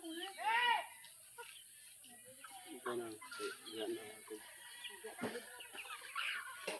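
A domestic chicken clucks in a short rising burst near the start, then quieter clucks continue alongside people talking at a home in the Philippines.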